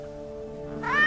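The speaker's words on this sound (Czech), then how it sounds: "Ty dostaneš kocoura." A cat meows once, rising and drawn out, close and fairly loud, after a low steady background hum.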